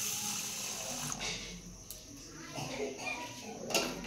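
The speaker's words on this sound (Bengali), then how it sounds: "আমি এবার জল দিয়ে ভিজিয়ে দেব" Water pours and splashes into a bowl of lentils and Gobindobhog rice set to soak, a short burst followed by faint trickling under quiet talk.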